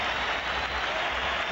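Barcelona supporters in the top tier of the stadium at a Real Madrid vs Barcelona La Liga match applaud, a dense, steady wash of crowd clapping and noise throughout.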